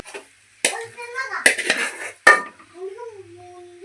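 Gongura is stirred into a pot of cooked mutton curry, with a spoon clanking against the metal pot in a few sharp knocks and scrapes while someone talks.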